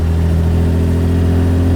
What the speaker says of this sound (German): Die Maschine läuft klasse, das Auto läuft toll.